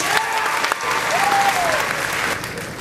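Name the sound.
audience applause for teachers at graduation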